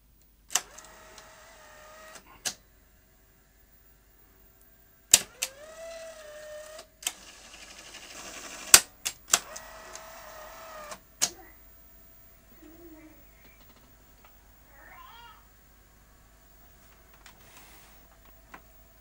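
A CVC video recorder's tape mechanism powers up and runs, producing close bursts of motor whirring with sharp mechanical clicks and clunks between quiet pauses.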